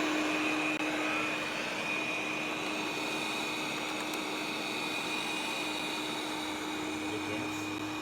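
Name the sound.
Neabot N1 robot vacuum cleaner running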